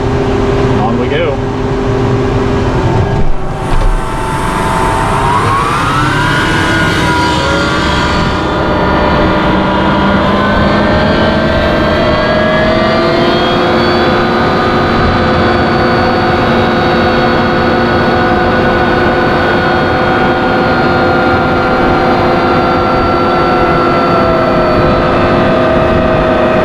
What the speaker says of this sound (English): This is my favorite sound in the world when you fire up a corn planter for the first time.